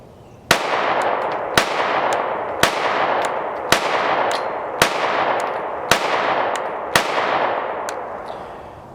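A Canik Mete MC9 Prime 9mm handgun with an unported barrel fires eight sharp, evenly spaced shots at a steady pace, each crack loud and close with a brief ringing tail, no talking.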